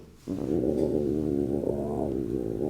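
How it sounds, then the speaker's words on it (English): A low stomach growl sound effect from a video game, a continuous rumbling gurgle that starts abruptly and holds for a couple of seconds, close and alone. "My stomach growled audibly."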